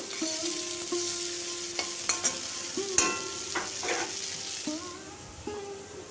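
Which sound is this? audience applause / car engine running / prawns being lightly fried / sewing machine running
prawns being lightly fried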